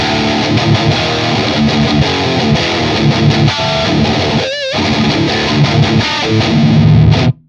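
Loud, heavily distorted electric guitar riffing through a Neural DSP amp plugin, with dense crunchy chords and a brief squealing bend near the middle, playing continuously without voices.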